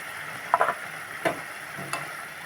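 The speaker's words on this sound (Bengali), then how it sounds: "এবারে দিয়ে দেবো যে ভেজে রেখেছিলাম বাটা মাছ, সেগুলো" Fried bata fish pieces being added to a hot pan for a mustard fish curry, a soft sizzle under a few brief clatters and thumps as pieces drop in, no talk.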